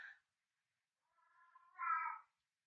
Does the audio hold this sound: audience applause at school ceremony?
no